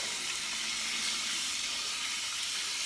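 Running water rinsing grime out of a sponge used to clean white BMX tires: a steady, broad hissing stream, loud and unbroken for a few seconds with no voices.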